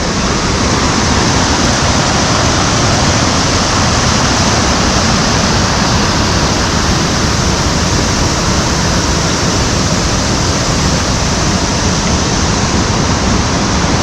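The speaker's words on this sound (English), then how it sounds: "Well, I got to cross the Franconia Brook one more time." Franconia Brook in the White Mountains rushes loudly and steadily nearby in autumn, a dense continuous roar of flowing water with no voices.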